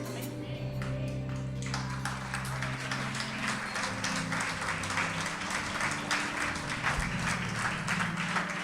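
A church congregation claps in worship, steady dense applause mixed with a sustained musical tone beneath it, running at even loudness throughout.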